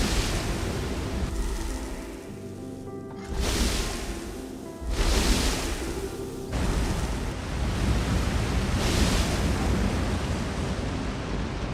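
Large fountains in a video game pour and splash in a loud, continuous broadband rush that swells in surges, with no voices.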